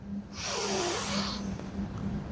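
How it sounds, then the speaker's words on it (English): A deep inhaled breath drawn in through the nose during a group stress-relief exercise, one long airy rush swelling then easing off over about a second and a half, close and fairly quiet over a low hum. "Take a deep breath in."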